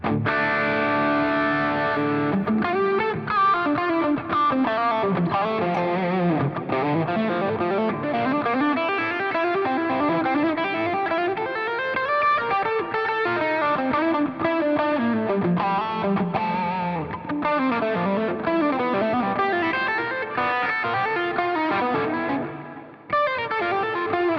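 Electric guitar on the bridge pickup driven through a Bluesbreaker overdrive pedal at high gain, playing continuous distorted riffs and chords for over twenty seconds, loud and up close with no talking.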